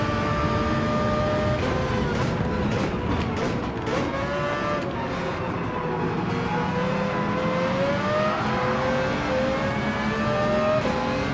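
Mitsubishi race car engine in Gran Turismo 7, a steady loud drone with pitch rising and falling through gear changes as the car accelerates and lifts, close and continuous without talk.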